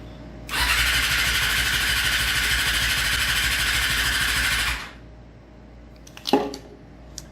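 Yamaha R6 cafe racer motorcycle engine cranking steadily for about four seconds, a loud, close, continuous starter whine that cuts off without firing, followed by a few faint clunks.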